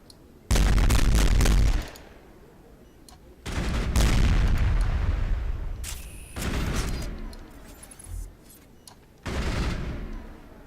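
Assault rifle fire in the shooter game Mass Effect, loud sustained bursts repeating about four times with short pauses between them, alone without talk.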